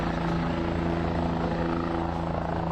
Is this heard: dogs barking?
no